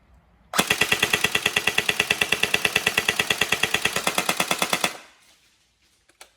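An upgraded Tokyo Marui SGR12 AES airsoft shotgun fires a long full-auto burst of about four and a half seconds, loud, rapid and evenly spaced mechanical cracks that stop abruptly, followed by a couple of faint clicks.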